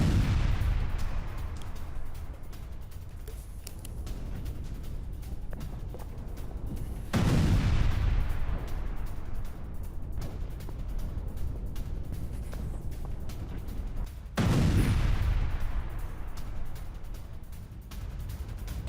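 Heavy explosions from an Israeli strike on a tunnel network, three deep booming blasts spaced about seven seconds apart, each followed by a long rumbling decay and continuous crackling in between.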